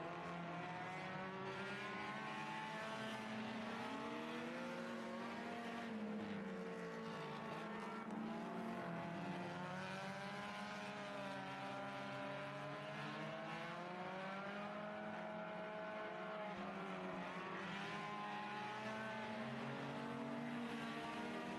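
Race cars roar around a small oval speedway during a raceday, engines droning and rising and falling in pitch continuously as the field laps, fairly distant and steady throughout.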